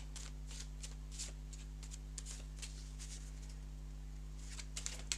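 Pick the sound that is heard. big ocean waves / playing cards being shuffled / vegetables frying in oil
playing cards being shuffled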